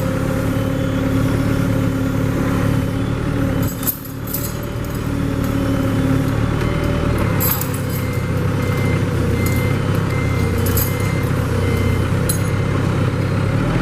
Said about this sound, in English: Okay, raising up the mast to a point where the ramp will ease up from the floor.